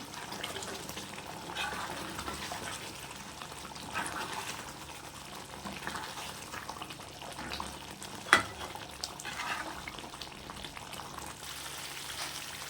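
Egg gravy sizzles and bubbles in a pan while being stirred, making a soft continuous frying hiss with light scraping and one brief clack partway through, fairly quiet and without any talking.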